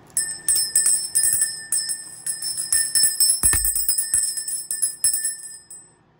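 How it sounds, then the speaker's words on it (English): A bell rings out repeatedly in bright, clear strikes, each ring sustaining and overlapping the next in an irregular rhythm, close and fairly loud with no talking. "Oh, let's do the bell."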